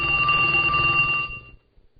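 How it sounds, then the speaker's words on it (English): A cell phone rings loudly in a radio studio, a steady electronic trilling tone that runs about a second and a half before cutting off, with no voices over it. "Hold on, my cell phone is ringing."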